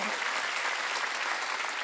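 Church congregation at a Korean Wednesday worship service applauding together, a dense, steady wash of many hands clapping at close range with no talk over it.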